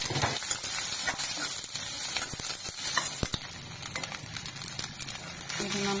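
Ginger, fennel seeds and half a grated coconut sautéing in a hot pan for a banana flower gravy, a dense continuous sizzle with a few sharp knocks and scrapes of a spoon.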